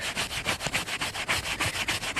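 Close-up sanding of a brain-tanned buckskin hide, heard as a steady, rhythmic rubbing scratch of quick back-and-forth strokes with no voices.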